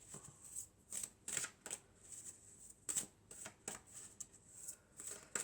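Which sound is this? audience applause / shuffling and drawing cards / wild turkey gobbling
shuffling and drawing cards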